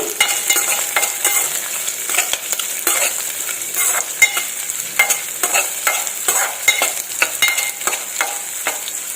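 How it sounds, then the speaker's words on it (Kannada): Chopped carrots and beans fry in a little oil, a loud continuous sizzle broken by frequent scraping stirs of a spatula in the pan, with no voices. "ಕ್ಯಾರೆಟ್ ಮತ್ತು ಬೀನ್ಸನ್ನು ಹಾಕ್ತಾ ಇದ್ದೀನಿ ಇದು ಸ್ವಲ್ಪ ಎಣ್ಣೆಲಿ ಫ್ರೈ ಆಗಬೇಕು"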